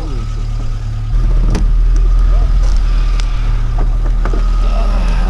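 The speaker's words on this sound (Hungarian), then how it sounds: "Mehet az autó." A car in a Hungarian military-simulation airsoft exercise pulls away, its engine rising to a steady, loud rumble after about a second and holding under faint background voices.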